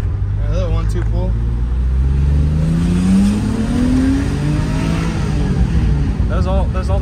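A BMW M5 pulls hard through first and second gear, its engine note rising steadily with a gear change midway, loud and close from inside the car while voices speak over it.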